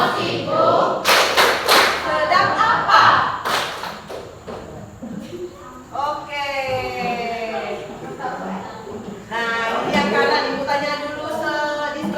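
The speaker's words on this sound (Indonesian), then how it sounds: "Oke, tepuk tangan." Junior high school students clapping their hands in a rhythmic chant, sharp claps arriving in short bursts between stretches of group singing and talk.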